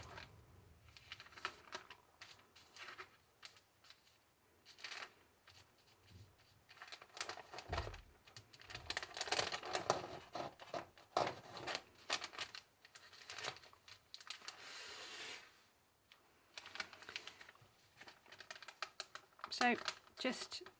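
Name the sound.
tearing tracing paper off along stitching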